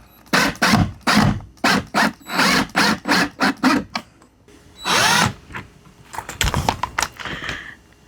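An old, worn power drill drives 2.5 inch screws in a van build, whirring in a rapid string of short loud bursts with brief pauses, then longer runs and a creaking stall, close up.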